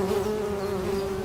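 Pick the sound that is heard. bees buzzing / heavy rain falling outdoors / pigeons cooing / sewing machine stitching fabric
bees buzzing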